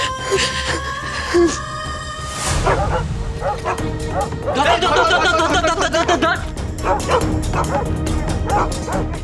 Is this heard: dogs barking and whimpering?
yes